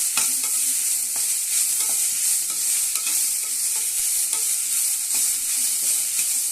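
Spring onion sizzles loudly in hot oil with cinnamon, cloves and fennel while being stirred for a samba rava porridge, a dense steady hiss with faint scraping strokes underneath and no speech.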